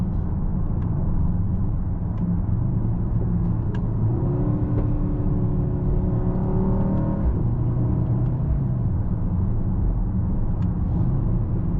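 A 2025 Mercedes-AMG GLE 63 S V8 SUV cruises along country roads, its steady engine drone and road rumble constant and close throughout, with a brief rise in engine pitch midway.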